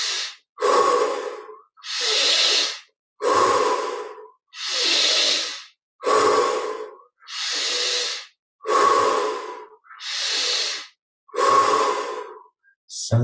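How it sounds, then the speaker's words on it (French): Slow, deep breaths during a guided meditation, about ten long airy inhales and exhales in a steady rhythm, close and clear with quiet pauses between them. "Cinq respirations."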